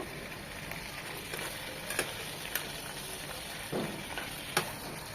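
Boal fish fries gently in a pan with a soft, steady sizzle, punctuated by a few light pops and a clink or two of utensils, quiet and close with no talking.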